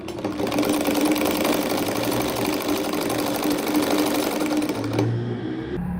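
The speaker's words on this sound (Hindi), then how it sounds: "बिल्कुल एज पर जो है वो हम रखकर यहाँ पर सिलाई लगा रहे हैं" Sewing machine stitching a pink ribbon lengthwise along the edge of a neckline, running loud and steady with a fast even whir for about five seconds before stopping abruptly.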